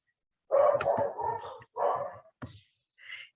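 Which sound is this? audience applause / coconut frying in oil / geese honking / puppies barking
puppies barking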